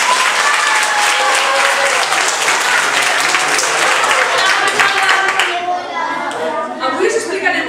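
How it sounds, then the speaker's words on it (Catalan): Loud, close applause from a small audience, likely children, with dense clapping that stops after about five seconds, leaving a voice and murmuring. "un fort aplaudiment"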